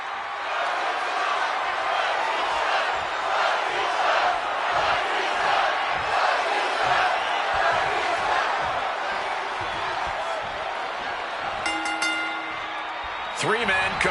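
A large wrestling crowd roars and cheers throughout a WWE 2K26 video game match, a dense continuous wash of arena noise with chanting swells, joined near the end by brief sharp game effects.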